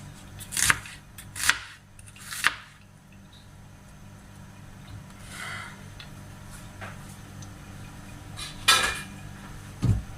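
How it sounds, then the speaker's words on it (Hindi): A knife chops through a potato sandwich on a board, a few sharp clacks of metal on the cutting surface spaced apart with a softer scraping pass in between, close and alone. "यहाँ पर इसको चॉप कर लेंगे। अच्छे से इसको चॉप कर लेना।"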